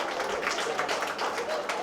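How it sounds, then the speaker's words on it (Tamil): Applause for a repeat winner at the GRT Thiruvallur kolam contest prize distribution, a steady, moderately loud crowd clapping filling the whole short stretch. "அதுக்கு ஒரு மிகப்பெரிய கைத்தட்டல் கொடுத்துடலாம்"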